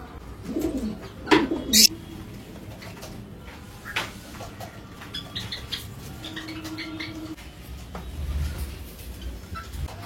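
Lovebirds in a colony come out to feed, with a sharp burst of chirps and squawks early, then scattered short calls, light scratching and shuffling nearby.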